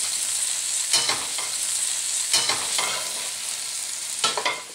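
Chicken pieces browning in a skillet for chicken marsala give a steady, bright sizzle, broken by occasional stirring scrapes and clicks, close up and with no voices.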